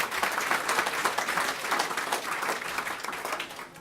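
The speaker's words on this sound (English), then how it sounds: "Let's give them a round of applause" Steady, dense applause from a reception audience at a newspaper publishers' gathering in Portland, filling the room at fairly high volume throughout without letting up.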